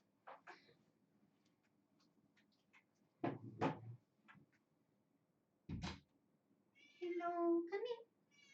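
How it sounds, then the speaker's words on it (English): A cat meows indoors, with a few soft door and cupboard thumps before a longer, clear meow near the end, set against a quiet room. "Oh no, my cat's lonely."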